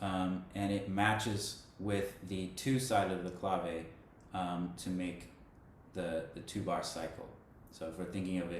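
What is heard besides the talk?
None of the usual background noises is heard.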